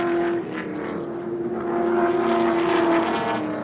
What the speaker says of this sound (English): there's the power of the big Chevy Camaro, because he overtakes Brock